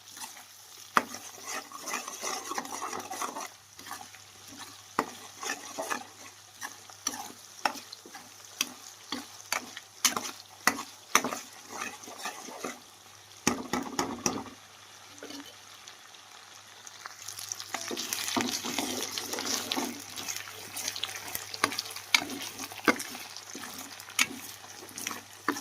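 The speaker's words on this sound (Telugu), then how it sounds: "అల్లం వెల్లుల్లి అయితే వేసి కదా, ఇది కూడా ఆయిల్లో బాగా ఫ్రై అయితే చేసేసుకున్నామండి" Ginger and garlic frying in oil in a home kitchen for korameenu fish pickle, with a soft, uneven sizzle, intermittent stirring scrapes and clinks, and a louder, busier stretch toward the end.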